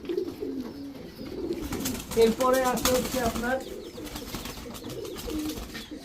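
A male pigeon and others coo in low, throaty bursts with a brief flutter of wings, while someone talks over them throughout.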